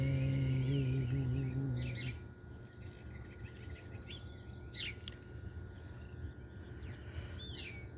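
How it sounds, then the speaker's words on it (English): Birds chirp and call outdoors at sunrise, scattered bright tweets over steady ambient background noise, with a low hum fading out after the first two seconds. "the birds are out and chirping"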